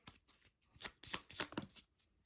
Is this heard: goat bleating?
no